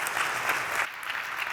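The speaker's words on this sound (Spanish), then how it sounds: "Un aplauso, por favor, para Ana Rosa." Audience applause at an annual investment strategy conference, a steady wash of many hands clapping at moderate volume that dips slightly partway through and carries on without voices.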